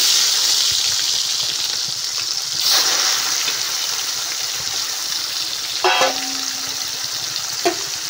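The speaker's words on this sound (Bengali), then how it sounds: "তো সেই চিংড়ি মাছটাকে এবার ভালো করে ভেজে নিতে হবে।" Shrimp marinated in salt and turmeric fry in hot oil in a wok, giving a loud, continuous sizzle with brief scraping bursts from stirring.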